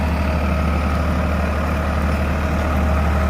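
A tractor engine drones loudly and continuously while pulling a 7-blade mini plough through hard ground, a steady, heavy low rumble with no pauses.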